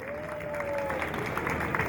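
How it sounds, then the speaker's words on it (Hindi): Audience applause at a wrestling show, steady dense clapping and crowd noise throughout, with a faint tonal whine near the start. "तालियां होनी चाहिए इनके लिए।"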